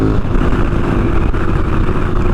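A 2021 KTM 1290 Super Adventure S motorcycle accelerating, its engine a loud, steady, close roar with dense low-pitched rumble running unbroken throughout.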